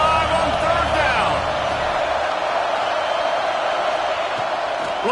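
A packed Ohio State Buckeyes football stadium crowd roars steadily on third down in NCAA 26, a loud, continuous wash of cheering with voices over it.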